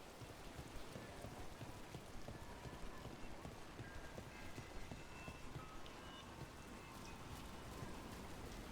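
Steady, soft rain falls in the video game Dragon Age: The Veilguard, an even patter and hiss of drops at low level, with no talking.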